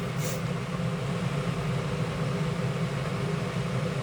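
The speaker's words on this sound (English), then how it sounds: "once you hear that boiling sound kind of tail off a little bit, it's usually close to being done" A steady, rumbling boil from an electric kettle with a heating element, a constant low roar with a faint hiss on top, unchanging in level throughout.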